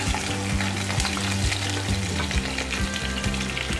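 Chopped onions and curry leaves sizzle steadily in hot oil for chicken curry, a loud continuous crackling fry with faint stirring scrapes throughout, no voices.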